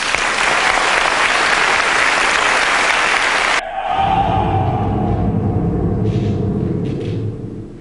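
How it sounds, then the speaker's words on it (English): Loud, dense applause from an audience at a paranormal investigation group event fills the space for a few seconds, then cuts away to a lower rumble of continued clapping and crowd noise. "give the investigation group from Derbyshire a big round of applause"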